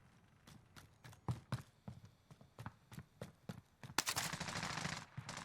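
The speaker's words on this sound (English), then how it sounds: "Gunfight going off to our right-hand side." Gunfight in Call of Duty Warzone, a rapid string of sharp gunshot cracks and bursts at moderate distance, ending in a dense noisy volley, with no talk over it.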